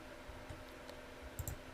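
Computer mouse clicks while editing a Google Sites page: a few faint, sharp clicks, spaced irregularly and mostly clustered in a close pair near the end, over quiet room hiss with no talk.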